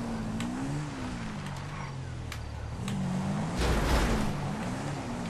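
A quad bike engine in GTA V, a steady low drone that rises and falls as the throttle is worked, swelling toward the end, with a few faint clicks over a continuous hum.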